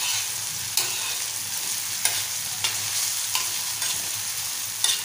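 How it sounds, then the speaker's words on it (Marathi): Chopped tomatoes sautéing in hot oil on a tava for prawn masala fry, a steady close sizzle with periodic scrapes and stirs of a spatula punctuating it, no voices. "आता टोमॅटो नरम होईपर्यंत आपल्याला छान परतून घ्यायचं आहे"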